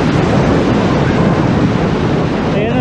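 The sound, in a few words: strong wind and ocean waves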